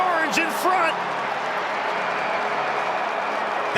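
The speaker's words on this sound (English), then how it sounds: "That woke the crowd up." A stadium crowd in the dome roars and applauds after a Syracuse goal in an NCAA men's lacrosse game against Hopkins, a dense, sustained cheer with a commentator speaking over it.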